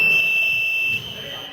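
A basketball substitution buzzer blares as one loud, sustained electronic tone for about a second in a gym, then cuts off into crowd and hall noise.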